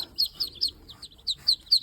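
Muscovy ducklings peep in a quick run of about seven thin, high calls in close, uneven succession, fairly near and moderately loud, with no talk.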